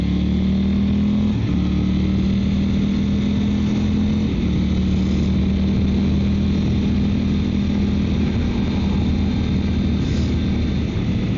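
Triumph Tiger 900 motorcycle engine pulling hard to overtake on a road, a steady loud engine drone with shifting pitch under heavy wind rush, recorded on the bike.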